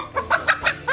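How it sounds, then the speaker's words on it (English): A chicken in a box, clucking in a quick series of about five short, nasal bursts at an even pace, close and clear with no talk over it. "There's a chicken in there."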